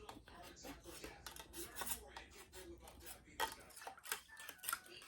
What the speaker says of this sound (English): Hold on I got a knife, that'll work. Just need to get something in there to stir it around